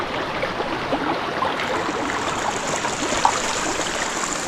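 Cold water rushes steadily through a stream channel in Gurez Valley, Kashmir, a continuous close-up wash of broadband flow with no pauses.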